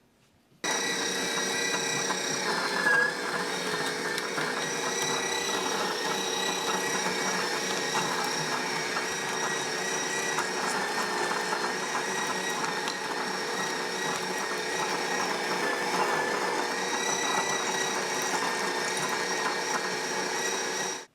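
A KitchenAid grinder grinds dried corn into flour, a steady, loud mechanical whir with a rattling edge that starts abruptly and runs without pause until it cuts off at the end.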